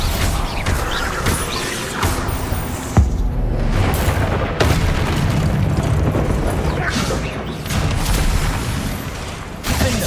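Repeated Bombarda blasting-spell explosions in the game Hogwarts Legacy, heard as loud booms and crashing impacts over a dense, continuous roar, with sharp hits near three and four and a half seconds.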